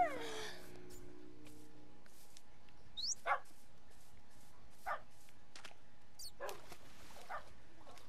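A dog in the Minecraft video game gives a few short, sharp barks and yips spaced out over several seconds, fairly faint against a low background hum, with no talking.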